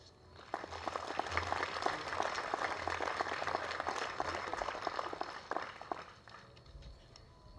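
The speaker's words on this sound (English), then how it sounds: "please join me and give him a round of applause" Audience applause at an Aboriginal achievement awards ceremony in East Kimberley, a steady wash of many hands clapping that builds quickly and holds at moderate loudness for several seconds before thinning out.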